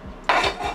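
Air-fried vegetables are tipped into a dish, making a brief clatter of food and utensil against the dish, with a sharp scrape and rattle partway through and no talking.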